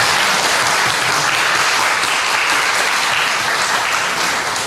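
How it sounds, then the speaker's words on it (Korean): Steady, dense applause from a church congregation, loud and sustained throughout with no break. "박수 한번 보내드리겠습니다."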